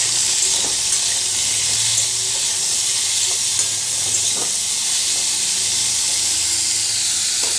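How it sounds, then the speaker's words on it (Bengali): Cauliflower sizzles steadily in a hot pan with the lid off, a continuous frying hiss broken by a few soft scrapes and knocks of stirring, close and fairly loud with no voices. "এবার ঢাকনাটা খুলে ফুলকপিগুলো একটু নেড়ে চেড়ে দেবো।"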